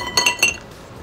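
Glasses touch in a quick toast, three bright clinks in close succession, loud and near, then a soft ringing tail fading to near silence.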